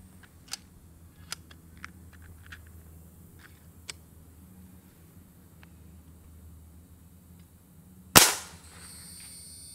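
A single sharp shot from an FX Maverick .25 air rifle fitted with its stock OEM shroud, a loud crack that rings out briefly after several faint ticks and clicks.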